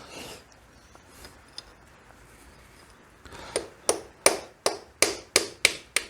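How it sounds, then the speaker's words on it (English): Sharp metallic hammer strikes on a pin punch loosening a lock nut during a Suzuki V-Strom 650 engine removal, a few scattered taps and then a run of about eight evenly spaced, ringing blows. "My special tool is going to be a pin punch and hammer."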